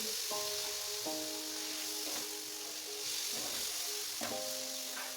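Rui fish sizzles in fish oil in a pan with a constant dense frying hiss and occasional stirring scrapes. Faint background music sits beneath the hiss.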